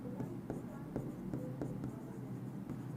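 Chalk or marker strokes on a classroom board during a chemistry lesson, a series of short, sharp taps and scrapes repeating irregularly over a steady low room hum, fairly close.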